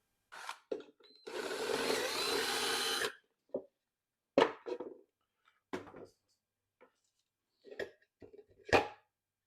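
A power drill whirs in one sustained burst of about two seconds while boring a larger hole, followed by scattered knocks and clatter of tools on wood.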